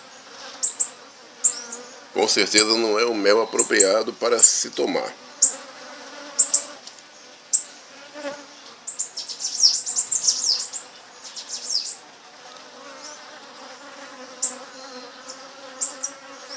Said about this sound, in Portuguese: São as abelhas da cidade.